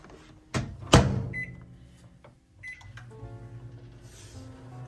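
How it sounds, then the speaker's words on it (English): A kitchen microwave hums at a low steady drone while melting ingredients, with a couple of sharp door or button clicks early on and quiet kitchen handling noises around it. "we are going to melt this in the microwave"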